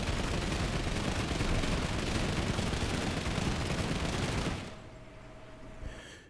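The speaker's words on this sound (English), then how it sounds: "the M12 Cobalt shoots much faster, but does no damage to heavy armor" Rapid, sustained automatic fire from the M12 Cobalt in Planetside 2 rattles loudly for about four and a half seconds, then cuts off, leaving faint lingering tones and a brief click.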